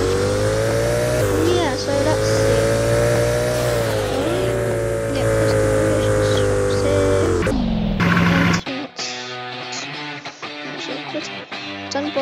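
A Bugatti Veyron in a racing video game drones with a strong, sustained engine note that shifts pitch as the car changes speed, then cuts abruptly to a sparser stretch of game sounds near the end.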